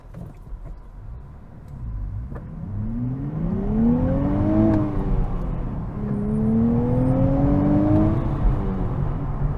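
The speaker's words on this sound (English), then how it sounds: "That was maybe about 3/4 throttle, and the tires were fighting for traction there." A 2024 Nissan Z pulls away at about three-quarter throttle on a hot day, its engine note climbing twice through the gears as it grows louder, heard from inside the cabin with no talk.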